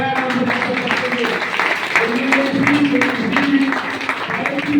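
A seminar audience in Ahmedabad claps loudly and steadily, dense overlapping hand claps mixed with cheering voices that continue without a break for the whole stretch.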